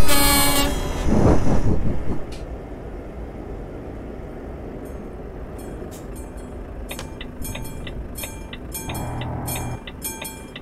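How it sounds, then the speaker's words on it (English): A railway crossing bell and a passing train in Euro Truck Simulator 2: a loud opening blast and rumble give way to steady rolling train noise, then rapid ringing dings repeat near the end. "Sounds like a bloody bell."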